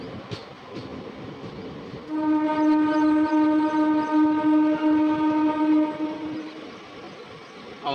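India's first hydrogen train running on the Jind–Rohtak line, with a steady rumbling run and a loud, sustained horn blast of several seconds in the middle.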